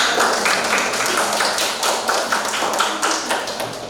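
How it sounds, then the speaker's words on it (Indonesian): A group receives applause from an audience at an indoor gathering, with a steady patter of many hands clapping close by throughout. "kita berikan aplaus"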